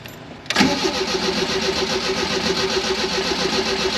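A Fiat X1/9 engine, just replaced, catches and then runs steadily with a little throttle, a loud close mid-pitched idle that holds even and throaty after the initial start-up burst.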